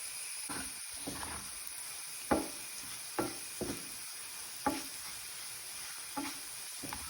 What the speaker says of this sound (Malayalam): ലോ ഫ്ലെയിമിലിട്ട് വേണം ഇത് ഇളക്കിയെടുക്കാൻ